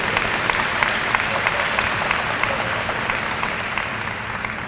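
A university convocation audience applauding straight-A honor students, dense continuous clapping from a large crowd in a hall, loud and even throughout.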